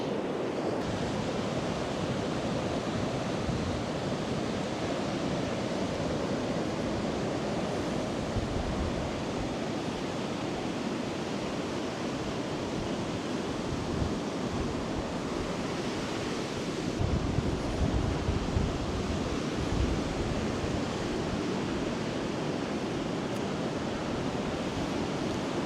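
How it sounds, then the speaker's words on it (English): Ocean waves rolling in on Filey beach, a continuous broad wash of surf with heavy wind buffeting the microphone, steady and loud throughout with no voices. "those waves are rolling in"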